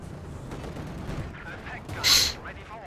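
A field gun booms once in a Company of Heroes 2 battle amid a T-34 advance, a sharp bright blast under ongoing commentary and background battle noise.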